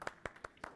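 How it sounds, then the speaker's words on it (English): A few scattered hand claps from a small conference audience at a software development talk, four distinct sharp claps spaced evenly over under a second, fairly faint and brief. "Give yourselves a round of applause."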